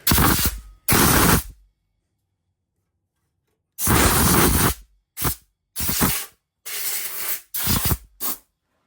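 Compressed air blasts through the carburetor of a Yard Machine 8/24 snow blower in loud, harsh hissing bursts: two short ones, a long pause, then a longer gust followed by several quick, choppy puffs, close and with no one talking.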